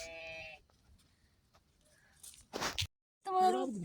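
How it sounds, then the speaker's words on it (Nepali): Sheep lambs bleat up close at a high mountain herding pasture: one bleat at the start and another at the end, with a short rustling noise in between. "हाम्रो भेडाको पाठीहरू कति धेरै छ है"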